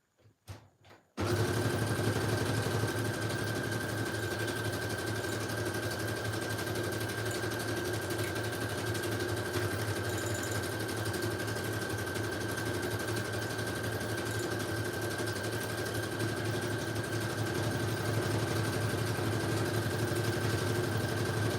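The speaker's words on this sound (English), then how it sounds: "I guess I have one more that I can sew" A sewing machine stitches book page pocket tags with a steady, continuous mechanical whir and hum that runs close and loud for most of the stretch after a brief start.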